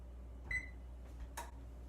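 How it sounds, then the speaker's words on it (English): A kitchen oven gives a single short electronic beep as it is set to preheat, followed by faint soft clicks, quiet and close in an otherwise hushed room. "So, first, preheat the oven."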